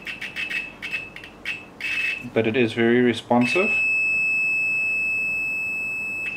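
A Brymen TBM811 multimeter's continuity buzzer sounds in a run of short, sharp beeps at first, then after a voice speaks it holds one loud, steady tone to the end.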